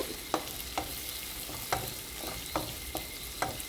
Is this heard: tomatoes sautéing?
yes